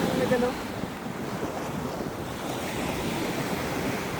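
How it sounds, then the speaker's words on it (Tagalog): Steady, roaring wind noise buffeting the microphone at Botolan in the Philippines, with surf-like rushing throughout and no talking. "Lakas ng hangin dito sa lugar na to, sa Botolan."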